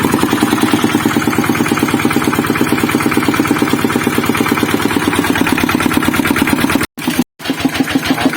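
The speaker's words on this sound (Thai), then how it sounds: "รถคันนี้ครับเกียร์ค้างยังสตาร์ทได้นะครับ" A truck engine with its gear stuck runs steadily at idle, a close, loud, rhythmic chugging with a brief cut-out near the end. No one speaks.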